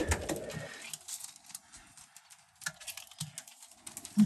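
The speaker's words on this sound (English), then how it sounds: "as you can see, the pigeons are getting fed in the boxes." Racing pigeons being fed in their nest boxes give soft, close cooing mixed with scattered pecking and shuffling sounds, with no talking.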